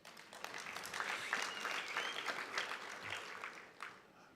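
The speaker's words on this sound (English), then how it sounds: "I think we must applaud them for that" An audience at a presidential social sector summit breaks into applause, the clapping swelling and then thinning out, moderately loud and heard alone, without talk over it.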